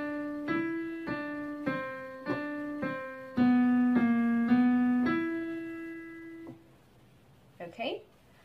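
A beginner piano plays the second row of a song as about nine clear, evenly spaced notes in a waltz-like rhythm. The playing is close and moderately loud, then fades into a brief voice at the end.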